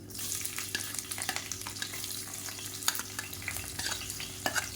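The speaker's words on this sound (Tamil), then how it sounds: "இப்போ இது எல்லாமே நல்லா வறுபட்டு ஃப்ளேவர் வரணும்" Fennel seeds, curry leaves and long-sliced onions fry in a pan with a steady crackling sizzle, broken by scraping stir strokes and occasional sharper pops, heard close with no talking.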